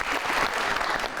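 Studio audience at a Pakistani TV talk show clapping warmly, a dense steady burst of applause lasting about a second.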